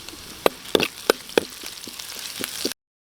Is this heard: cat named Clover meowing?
no